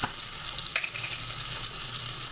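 Ground spices, including chilli, turmeric and cumin powder with ginger, onion and green chilli paste, fry in oil for a fish curry, giving a continuous close hiss with a brief scrape of stirring; no voices.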